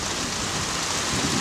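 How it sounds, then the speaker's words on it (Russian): Steady rain falls during outdoor cooking of Samarkand pilaf, a dense, even hiss of drops that fills the background with no voices. "Может, дождь наконец-то прекратится."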